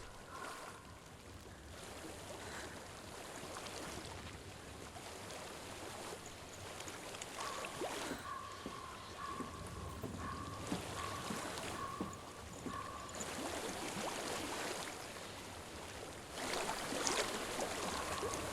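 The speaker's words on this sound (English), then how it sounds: "I hear water." Water flowing and lapping in Hellblade: Senua's Sacrifice, a steady rushing wash with gentle splashing surges, moderately close and continuous, with a faint tone and soft sounds over it.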